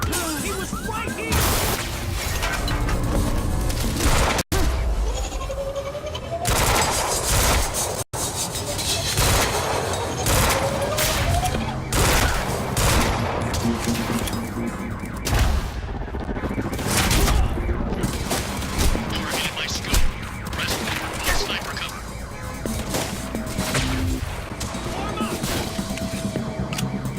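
Loud, sustained gunfire in a shootout, with dense rapid bursts, crashes and impacts running almost without a break for nearly half a minute.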